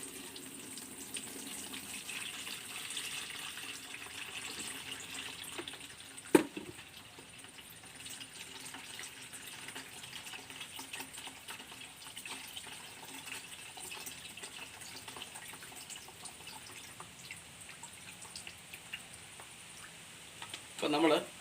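Homemade organic herbal solution, made for wilt disease and ants, is strained and poured, giving a steady wash of running liquid with a couple of louder splashing bursts and faint voices in the background.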